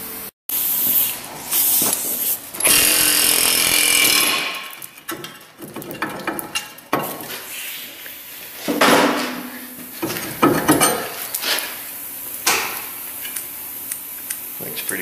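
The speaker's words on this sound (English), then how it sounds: "so we just whale it off with the air hammer" An air hammer knocks a worn brake rotor off a car's hub, with loud bursts of pneumatic rattling and hissing air broken by short pauses and metallic clanks, close up.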